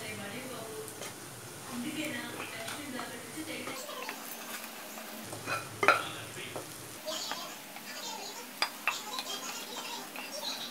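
Potatoes being stirred as they fry in a pan for aloo kurma, giving a steady soft sizzle with occasional scraping and clinks of a utensil against the pan, heard close.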